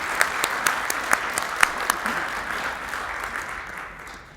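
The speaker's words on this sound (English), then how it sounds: "Please applaud this group." Steady applause from an awards event crowd, with scattered sharper claps standing out early, gradually thinning toward the end.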